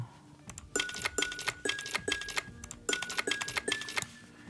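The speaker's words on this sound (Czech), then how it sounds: "když tam platíme jako víc těch penízků, takže ten zvuk těch penízků jde nahoru" Bright chiming coin jingles from a game, repeating in quick bursts with a rising tone, each payout a cluster of metallic clinks.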